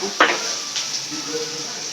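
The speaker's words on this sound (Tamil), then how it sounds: "ஒரு எறாவுக்கு வந்து வெங்காயம் வதங்கி வச்சுக்கலாம். தக்காளி போட்டுக்கலாம்." Onion and tomato being sautéed with salt in a pan, a sharp stir or clatter near the start and then a steady, close sizzle with light stirring.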